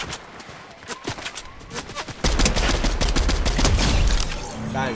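MK Alpha assault rifle firing in Fortnite: scattered single shots at first, then a loud, sustained rapid burst of automatic fire, with a voice talking over the game.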